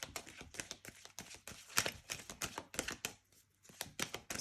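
Rapid riffling and slapping of tarot cards being shuffled, close and crisp, in quick irregular bursts with a brief pause partway through.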